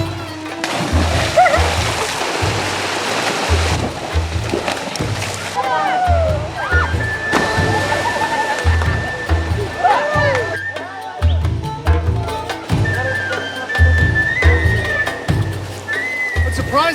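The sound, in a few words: splashing in cold glacial canal water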